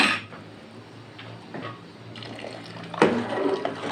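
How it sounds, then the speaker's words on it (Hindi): Cornflour slurry poured into chicken corn soup broth, a soft liquid splash with clinks of a metal pot and spoon, close by, with a louder clatter near the end. "ये रूम टेम्परेचर पे हम 2 चम्मच कॉर्नफ्लोर जो है वो अच्छे तरीके से इसके मिक्स करेंगे, और ये अब इसमें हम शोरबा में डालेंगे"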